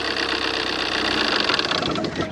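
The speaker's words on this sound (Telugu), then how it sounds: "సింగిల్ సెల్ఫ్లో కార్ స్టార్ట్ అయితే ఇంజన్ యొక్క నాయిస్ కూడా చాలా సైలెంట్గా అయితే ఉంది" A Tata Nexon XM AMT car from 2018 or 2019 idles with a steady, even engine hum and a faint ticking texture, close and continuous for a couple of seconds.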